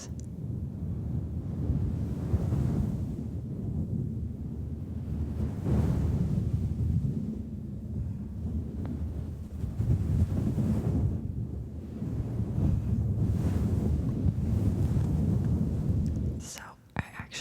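Steady close-up scratching and rubbing on a microphone, a continuous low rushing wash that swells and recedes like ocean waves, with a few sharper taps near the end.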